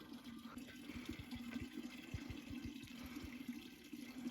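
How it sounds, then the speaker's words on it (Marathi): Spring water trickles steadily into a rock-cut tank at Raireshwar hillside fort, a faint, continuous low watery burble with no voices. "कंटिन्यू आहे ना पाणी त्याच्यातून येत असतं"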